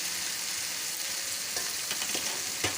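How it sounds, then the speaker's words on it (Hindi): Fried okra being mixed into a sizzling tomato masala for dhaba-style bhindi masala, with a continuous hiss of frying and a few scraping utensil strokes toward the end, close and without talk. "इसे अच्छे से मिक्स कर लूँगी।"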